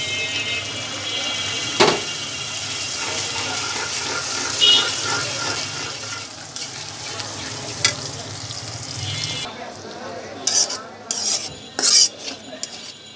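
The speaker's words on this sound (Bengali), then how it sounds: "ডিমগুলো আমার পেঁয়াজের সাথে আমি ঝুরি করে নিছি" Eggs scramble with browned onions in a pan for spicy pasta, making a continuous sizzle with repeated scraping and utensil clatter, then sharper clinks and knocks near the end; faint background noise and no clear talk.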